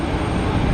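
Steady broadband jet roar from a CRJ 1000 regional jet at Geneva Airport, loud and continuous for a brief moment with no talk over it.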